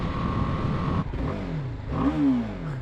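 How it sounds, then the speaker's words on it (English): A 2020 BMW G 310 R naked beginner motorcycle revs up quickly while ridden through the city, its engine note climbing and rising in pitch near the end, loud and steady throughout with no talking. "I do love how quickly it revs up."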